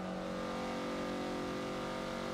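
Steady, buzzy engine note of a Mazda Miata held at high revs while driving on a track in Forza Motorsport 7, constant in pitch and level with no talk.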